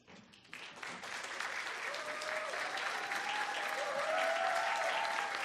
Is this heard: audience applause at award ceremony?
yes